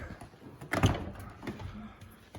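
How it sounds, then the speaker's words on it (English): The door of an Audi R8 with a carbon fiber interior opens with one short, close latch clunk, followed by faint handling noises. "If we open the door"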